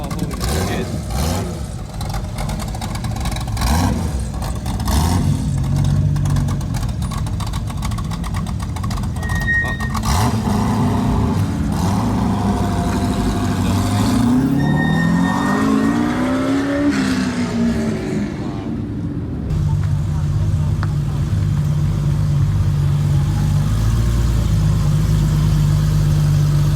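Ultima sports car at an annual RWB Porsche meet, its engine working as it comes down a slope; a loud, continuous drone with a rising and falling tone midway, close by, under crowd and wind noise.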